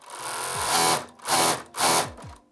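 A JACK C5F serger sewing machine running fast in three bursts, a rapid high-speed mechanical whir that rises, stops briefly and starts again, close and loud with no talking.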